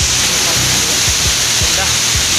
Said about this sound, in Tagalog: Ngayon yung falls.